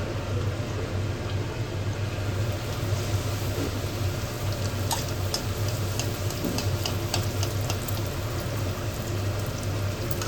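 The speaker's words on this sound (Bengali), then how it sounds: "লুচি ভাজা হচ্ছে" Luchi frying in hot oil: a steady, low bubbling and hiss continues throughout at moderate distance, with a few faint clicks in the middle and no speech.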